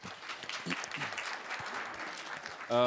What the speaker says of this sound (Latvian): Aplaus Mārim.